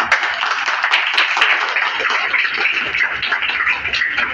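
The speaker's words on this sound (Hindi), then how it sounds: "आपके लिए सबसे पहले चाहूँगा कि एक ताली से स्वागत किया जाए।" An audience applauds in welcome at a gathering honouring a large joint family in Bhagirathpur, with steady, dense clapping that holds at an even loudness throughout.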